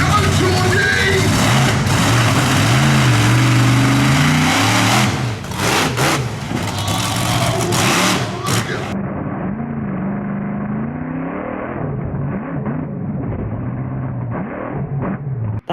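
A monster truck engine revving hard and accelerating toward a jump over cars, loud and close, a roaring rise that then drops to a quieter, muffled engine rumble with some background voices.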